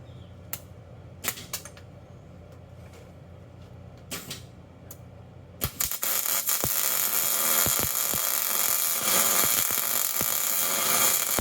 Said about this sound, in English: Fill this bottom in and we're gonna grind it smooth one more time.